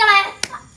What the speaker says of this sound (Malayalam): കൈയടിച്ച് പ്രോത്സാഹിപ്പിക്കണം കേട്ടോ ആ പരിപാടി